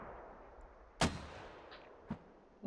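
Two distant explosive booms of mortar fire in the tactical shooter game Squad, a strong blast with a long decaying tail followed by a weaker thud about a second later, over steady background ambience.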